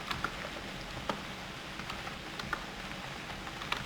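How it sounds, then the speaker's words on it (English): Rain falls in the survival video game UnReal World, a steady soft patter and hiss with occasional sharper drop ticks, even and continuous with no voices. "But it's raining, won't let me sleep."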